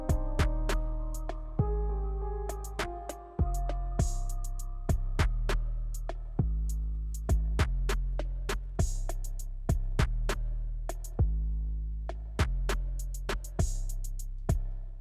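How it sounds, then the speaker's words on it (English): Trap-style beat built from sharp, punchy snare drum hits and crisp hi-hats over a deep, booming bass layer, repeating steadily and loud with no voices. "Actually, we can just throw all those snare drums together without anything else."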